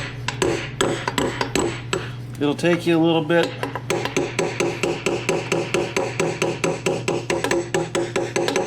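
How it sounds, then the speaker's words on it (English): A ball peen hammer strikes a steel part during an axle install on a 1996 Ford F-350 4x4 dually, with a rapid, steady run of sharp metallic blows after a brief pause, close and loud, with someone speaking briefly. "Ball peen hammer."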